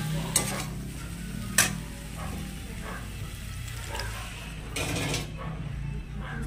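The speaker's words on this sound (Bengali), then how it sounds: "সব ফুলকপিগুলো দিয়ে এইবার নাড়াচাড়া করব।" Cauliflower with spices stirred in a frying pan, a soft continuous sizzle broken by a few sharp clinks and scrapes of a spoon against the pan, close but moderate in level.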